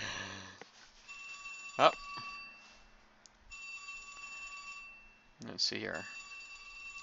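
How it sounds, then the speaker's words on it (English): A mobile phone rings in an office, sounding as several tonal electronic chirps with pauses between them, moderately loud against background noise. Someone speaks briefly over it. "It's my wife's phone."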